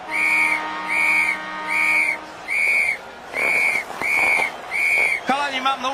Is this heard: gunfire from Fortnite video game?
no